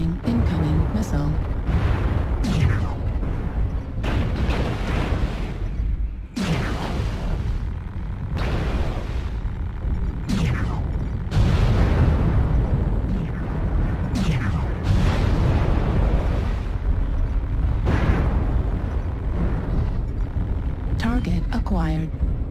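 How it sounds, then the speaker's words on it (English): Missile explosions rain down in a MechWarrior Online battle, a dense run of loud, booming impacts and bursts over a steady rumble, with a synthetic warning voice and other game sounds mixed in. "Warning, incoming missile."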